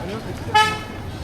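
A tuk-tuk horn gives one short, sharp toot amid street traffic in India, with a voice talking around it.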